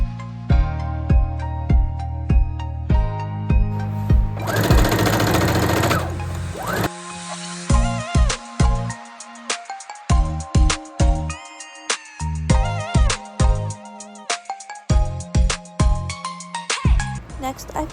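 A sewing machine stitches a shirt in short, rhythmic bursts, with pauses between runs and a brief higher-pitched whir partway through.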